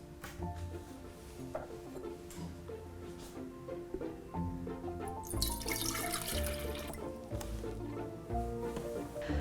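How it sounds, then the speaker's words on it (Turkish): Water pours into a jar, about a litre for a first kefir fermentation, with a faint trickling stream that grows fuller and splashier midway, heard softly and close with no talking. "Birinci fermentasyon için kavanozumuza 1 litre suyumuzu alıyoruz."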